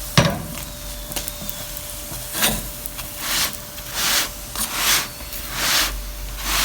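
A crispy mooli (radish) paratha sizzles in oil in a pan as it is pressed down while cooking. The hiss is steady and close, rising in repeated bursts with each press, and no one speaks.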